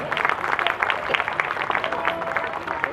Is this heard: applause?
yes